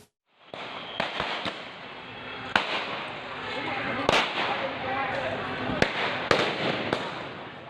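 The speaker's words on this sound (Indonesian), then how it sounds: "Tembakan peringatan dilepaskan petugas gabungan saat membubarkan tawuran antar ormas" Several sharp, loud warning gunshots fired by officers breaking up a street brawl in East Jakarta ring out at irregular intervals over a noisy crowd, amid commotion.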